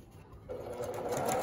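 A sewing machine runs steadily and close by as it stitches bargello quilt pieces, with no one talking over the even mechanical whir, which grows slightly louder partway through.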